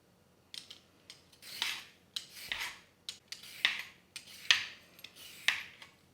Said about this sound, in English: So first thing we're going to do is we're going to peel our carrot.